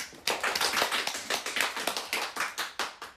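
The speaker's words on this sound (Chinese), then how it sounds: "鼓掌。" A crowd of fans applauds at a stage event, a brisk burst of many hands clapping quickly, moderately close and without speech.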